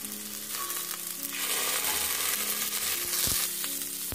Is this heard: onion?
yes